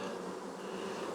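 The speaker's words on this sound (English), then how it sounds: "See, I can hear them now, that queenless sound." A queenless honeybee colony in a nucleus hive drones with a steady, dense buzz of many bees, close by and continuous, with no voices.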